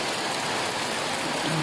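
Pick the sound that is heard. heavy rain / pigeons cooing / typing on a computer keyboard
heavy rain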